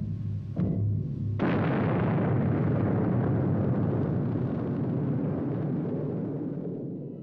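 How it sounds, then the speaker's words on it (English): Nuclear charges detonating aboard the spaceship Valley Forge in the 1972 film Silent Running, a short thump then a huge sustained rumbling blast that rolls on loudly for several seconds before slowly fading. "He then detonates nuclear charges, destroying the Valley Forge, the damaged Huey, and himself in the process."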